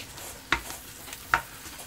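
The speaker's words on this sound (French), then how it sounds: "faire revenir les oignons" Onions and garlic sautéing in a soup pot for a pumpkin soup make a soft background sizzle, broken by two sharp utensil clinks against the pot.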